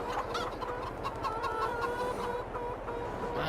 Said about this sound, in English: man, those chickens are very vocal today.